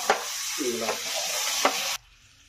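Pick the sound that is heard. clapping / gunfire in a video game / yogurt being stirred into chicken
yogurt being stirred into chicken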